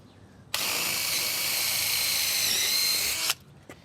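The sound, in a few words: power drill pre-drilling hole in wood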